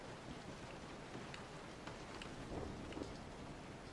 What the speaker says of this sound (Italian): Comunque piove, eh?